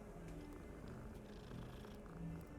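House cats purr steadily while being petted, a soft continuous rumble up close with faint background noise.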